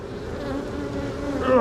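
A dense, steady buzz of bees swarming close around hive boxes sticky with propolis, honey and wax, loud and continuous and swelling slightly toward the end.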